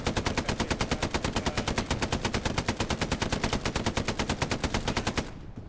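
Sustained automatic gunfire in the World War II shooter game Hell Let Loose, a rapid, evenly spaced stream of loud shots lasting about five seconds before cutting off.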